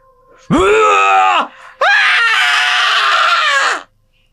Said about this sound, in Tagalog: Sumigaw ang kapitan, pero walang nakarinig.